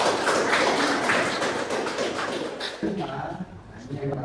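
Classroom audience clapping together during a university teaching session, a dense steady patter of many hands for about three seconds that thins out as a voice begins speaking over the tail.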